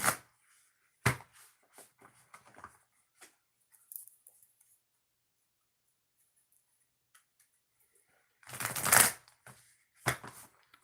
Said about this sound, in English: 2 shuffles for the next reading.